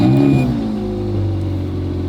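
A Ferrari Scuderia engine revs loudly up close, a strong steady mid-pitched roar with a brief rising note at the start, then holding a constant growl.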